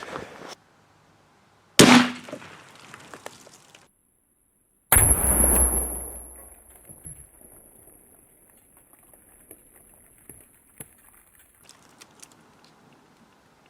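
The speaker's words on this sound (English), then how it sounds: "So I want to give this a couple more shots to see if I can hit it up top here." 5.56 NATO green tip rifle rounds fired at a steel brake rotor outdoors: two loud, sharp reports a few seconds apart, the second followed by a long fading ring and a sustained high metallic tone, then quiet ambience.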